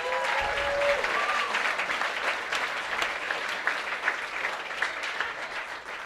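An audience at a live spoken-word event claps steadily, a full dense rattle of hands that holds evenly and then eases slightly toward the end, with faint vocal whoops blended in.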